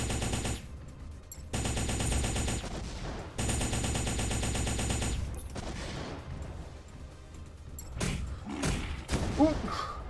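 A Gatling gun in the mech game M.A.S.S Builder fires in long rattling bursts, loud and close. Short pauses and thumping impacts come between the bursts, and a voice speaks briefly now and then.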